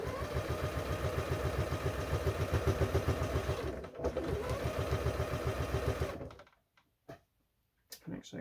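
A sewing machine runs steadily, stitching a mini quilt made from fabric scraps, its needle chattering in a fast, even rhythm for about six seconds before it stops. Softer handling sounds follow.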